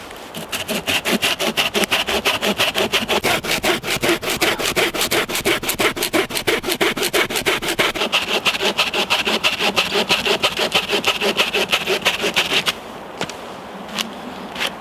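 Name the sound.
Laplander folding saw cutting through wood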